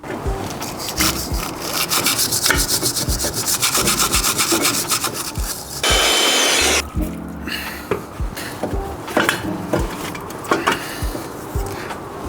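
A Toyota 86 brake caliper is scrubbed clean with steady, close rubbing strokes, a rough brushing rasp repeating in quick bursts with a brief louder stretch midway and no talk.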